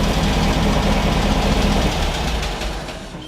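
A Beck 550 Spyder replica's engine idles steadily on its own, a loud, close, even low rumble with a slight knock that eases off a little toward the end.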